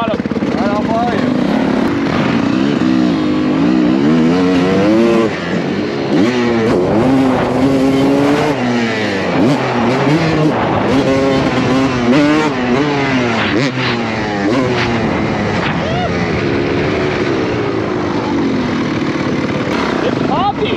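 Dirt bike engine revving hard through a whip jump, rising and falling in pitch as the throttle opens and closes, loud and close, with people talking over it.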